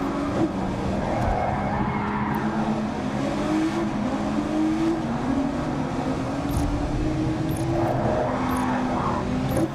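Race cars roar continuously in the VR racing game Grid Legends, engines whining and shifting pitch as they accelerate, with tire skids, loud and steady throughout.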